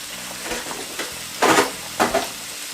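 Salmon pan-frying in a hot pan, a steady close sizzle with soft stirring scrapes and a few louder bursts of spitting oil.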